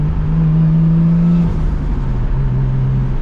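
A Nissan Skyline fitted with a new exhaust and centre muffler drones steadily while driving, a loud, close, low engine hum with shifting pitch and no voices.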